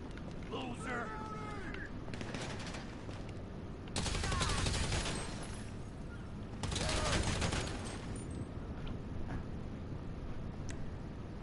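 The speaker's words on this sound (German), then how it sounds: "Und ich schieße den bei dir runter" Automatic gunfire in GTA 5 Online on PS4 rattles in two loud sustained bursts, with scattered lighter shots and mechanical clicks between them. Players talk over the action.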